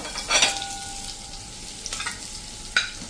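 Two medium chopped tomatoes stirred into eggplant curry frying in a pan, a steady close sizzle with bursts of scraping and stirring and a spoon knock near the end.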